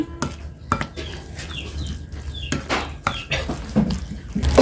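Burger ingredients being mixed together in a bowl at home, with repeated clinks and scrapes of a spoon against the dish in irregular bursts, close and moderately loud.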